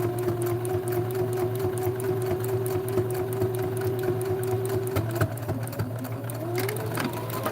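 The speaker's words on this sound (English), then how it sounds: "so there's our top stitch" A sewing machine runs a top stitch in a steady, fast mechanical chatter with a constant motor hum, close and continuous, with a brief change in pitch near the end.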